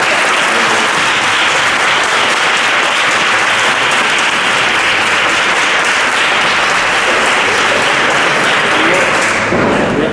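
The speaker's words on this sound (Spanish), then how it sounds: "Damos un aplauso." A lecture audience breaks into loud, dense applause, with many hands clapping together in a steady roar that lasts about ten seconds without easing.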